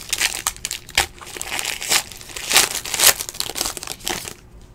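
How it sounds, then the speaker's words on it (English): Close, loud crinkling and crumpling of foil wrappers as 2017 Triple Threads baseball card packs are torn open, in irregular bursts of rustling. "And Jesse, opening cards for you."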